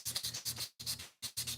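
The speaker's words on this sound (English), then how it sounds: "With wet sanding, you can use the same piece of sandpaper for a lot longer period of time" Sandpaper rubbed wet over a slingshot in rapid back-and-forth strokes, a close, steady scrubbing rasp in quick bursts separated by two brief pauses, with no voices.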